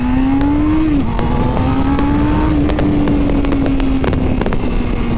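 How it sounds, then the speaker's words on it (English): A motorcycle engine running loudly and continuously nearby, its steady drone dipping and rising briefly as the rider downshifts with the clutch and blips the throttle. "clutch in, blip the throttle, and the same time as you blip it, you tap that foot lever down into the next gear"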